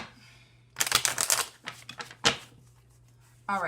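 Cards are riffled and shuffled in a few quick, crackling bursts, with a low hum beneath and a voice starting at the end.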